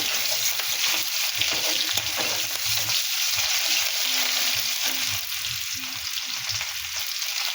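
Whole chilies and whole cumin seeds crackle in hot oil as a loud, dense, continuous sizzle that holds steady throughout, with no voices.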